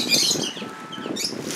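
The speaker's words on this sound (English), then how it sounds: "They built an aviary and they got some really cool birds up in there." Birds flutter and flap their wings inside a beachside aviary, a soft continuous rustle of feathers mixed with faint chirps, close by and with no talking.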